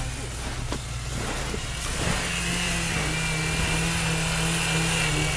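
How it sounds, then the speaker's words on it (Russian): A white Chevrolet off-roader on standard tyres drives around an off-road course, its engine droning steadily and rising in pitch as it pulls away, mid-distance, with loud continuous wind noise over the recording. "белый шевик попер по кругу"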